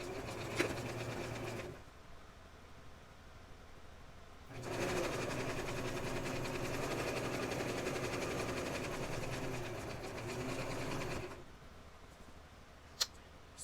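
A sewing machine stitches doll clothing in two bursts, a short whirring run at the start and a longer steady hum in the middle, with quiet pauses and a single click near the end.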